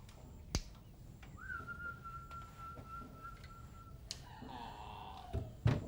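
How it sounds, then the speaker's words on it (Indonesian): A person whistles a long, steady, clear tone close by to coax a bird into singing, framed by sharp knocks and snaps, then a burst of warbling whistles near the end. "Kamu kepengen dengar siulan saya?"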